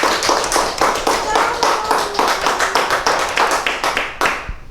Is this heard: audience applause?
yes